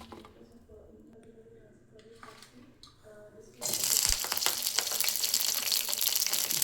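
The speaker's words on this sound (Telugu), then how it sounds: "ఇప్పుడు మనం పచ్చిమిరపకాయలు, టమాటాలు నూనెలో ఫ్రై చేసుకుందాం." Green chillies and tomatoes dropped into hot oil, a quiet stretch of small kitchen sounds giving way midway to a sudden loud, broadband sizzle and crackle that continues steadily to the end.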